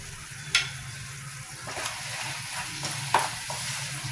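Soft, steady frying sizzle of curry leaves in ghee for a Kerala-style roast, with a couple of brief sharper crackles and stirring sounds, close by and without talk.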